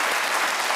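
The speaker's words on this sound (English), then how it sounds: "that cheer's not going to make any sense to anybody watching this" A studio audience cheers and applauds in a dense, loud burst of clapping that lasts under a second.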